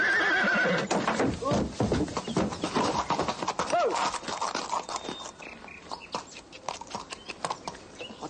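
A horse gives a loud, drawn-out neigh up close, followed by hoof clops, scraping and shuffling movement that gradually quiets, with faint voices in the background.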